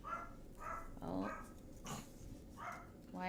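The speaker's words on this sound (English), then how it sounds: "Why are they barking?" Several small Pomeranian dogs bark indoors in short, separate bursts, some yips and whimpers mixed in, fairly close but moderately quiet.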